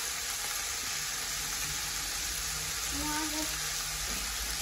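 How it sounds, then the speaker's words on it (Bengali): Vegetables fry in a pan for chow mein, giving a steady, broad hiss of sizzling with faint clatter mixed in. "আর এদিকে আমি সব সবজি কটা ভাজতে শুরু করেছি।"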